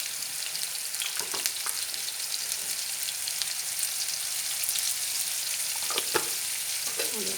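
Red lentil gravy with turmeric fries in a pan with a dense continuous crackling sizzle, close and even throughout, broken by a few brief scrapes of stirring.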